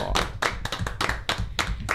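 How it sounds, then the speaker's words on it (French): Enthusiastic applause from an audience, dense clapping with a few surges and dips over two seconds, close and loud, no voices. "On peut l'applaudir bien fort."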